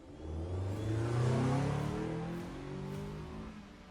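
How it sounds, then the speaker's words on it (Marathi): A car engine revs and accelerates, rising then easing off as the vehicle pulls away, loud and steady throughout. "पुढच्या 5 मिनिटात ती गाडी गेट मधून बाहेर पडली"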